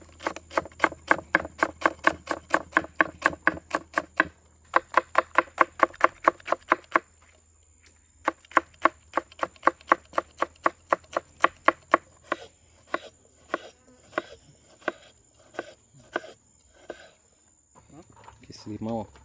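Knife chopping sliced garlic cloves and coriander stems on a board: a fast, steady run of sharp close taps in bursts with short pauses, loud and rhythmic, slowing into scattered cuts near the end.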